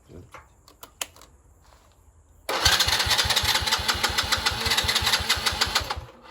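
A Ford Mustang engine cranks and catches at once, then runs loud and close with a steady, rapid knocking pulse after a few quiet clicks.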